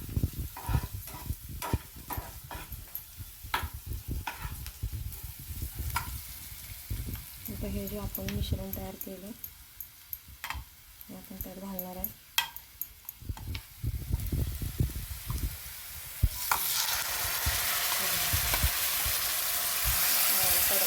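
Vegetable tempering sizzles steadily in a pan with turmeric added, a continuous frying hiss with occasional stirring, louder toward the end, while someone talks over it.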